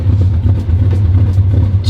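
Engine of a high-mileage air-cooled Porsche 911 running close up, a loud, steady low rumble with a rough, pulsing idle character filling the short clip.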